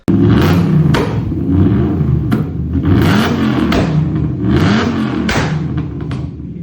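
A car engine revs up repeatedly in loud, throaty bursts, each climbing and dropping back, close to the microphone with no talking.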